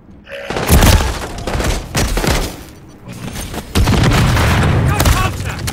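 Call of Duty combat fills the scene with loud, sustained gunfire, with bursts and booms rolling over one another. Radio-style voices speak over the shooting.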